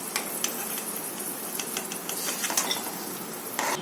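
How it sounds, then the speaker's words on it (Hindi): Dry fruits frying in warm ghee, a bright crackling sizzle with repeated clicks and scrapes of a spoon stirring through the pan, fairly close and steady. "घी जब थोड़ा सा गर्म हो जाए तो उसमें ये सारे ड्राई फ्रूट को फ्राई कर लेंगे"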